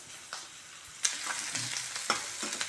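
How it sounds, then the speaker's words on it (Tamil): Capsicum sautés in a hot pan for chilli chapati, giving a soft, steady sizzle broken by a few brief scraping stirs, close by with no talking. "குடமிளகா நல்லா வதங்கிடுச்சு"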